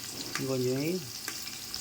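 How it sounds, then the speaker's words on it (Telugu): Onions and green chillies fry in hot oil for Andhra-style tiger prawn pulao, a steady close sizzle with a brief soft tonal squeak over it. "వేగిన తర్వాత ఉల్లిపాయ పచ్చిమిర్చి కూడా వేయించుకోవాలండి"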